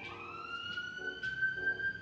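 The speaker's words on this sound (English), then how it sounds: "It's an ambulance." An ambulance siren wails in the countryside as a steady, faint, distant tone under quiet background noise, with no one talking.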